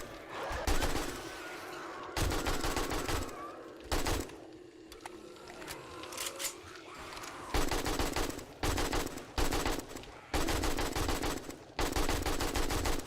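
Rapid automatic weapon fire during a Horde Night in the zombie survival game 7 Days to Die; loud, dense bursts of repeated shots separated by short gaps for reloading and weapon switching.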